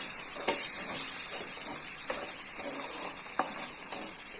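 A spoon stirs sugar and powdered cardamom into a sweet cooking in a pan, soft scraping strokes at irregular intervals over a constant bubbling sizzle and hiss, close and moderately quiet.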